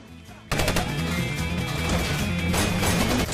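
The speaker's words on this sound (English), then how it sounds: "As they escape, they come under heavy gunfire." Heavy, sustained gunfire breaks out suddenly and keeps going as a dense, loud roar in a film chase scene, with scattered shouting mixed into the din.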